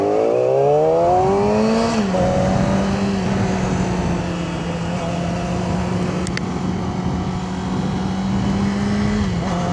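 A car engine revs loudly through a newly replaced, quieter exhaust, with pitch sweeping up then settling into a steady drone near the listener, alone without talk.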